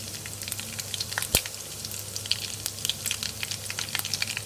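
Cumin seeds fry in hot oil with a close, busy crackle and scattered popping, one sharp loud pop standing out early, over a low background hum.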